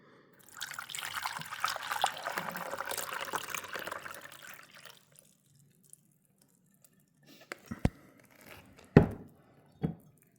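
Water pours steadily into a Pyrex measuring cup for about four seconds, a bright continuous splash and trickle, followed by a few scattered clinks and knocks of the cup and packaging.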